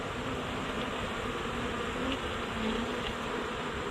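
A dense, steady buzzing of a honey bee swarm fills the air, close and constant without pause, as the bees are brushed into a box.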